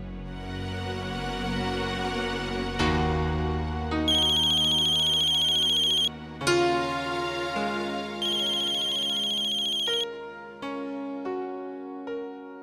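A mobile phone plays a melodic electronic ringtone loudly and unanswered, its tune changing in several distinct phrases with brief pauses between them.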